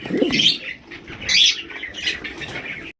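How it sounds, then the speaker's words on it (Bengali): Indian Bombay pigeons coo softly nearby at a pigeon farm, with bursts of fluttering wings and rustling mixed in. "বিশাল সাইজে একজোড়া ইন্ডিয়ান বোম্বাই কবুতর জুটি"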